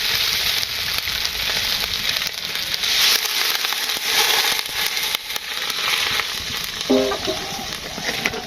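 Village chicken meat fries in hot oil with a loud, constant close-up sizzle and crackle, with scattered pops and a brief stirring clink near the end.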